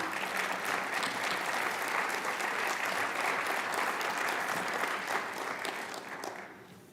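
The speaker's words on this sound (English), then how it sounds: "Please give them a round of applause for their support." Applause from the audience at a Martin Luther King Jr. birthday celebration, a full steady wash of clapping that holds for several seconds before tapering off.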